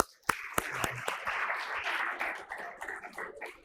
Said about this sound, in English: hats off to them and a big clap for them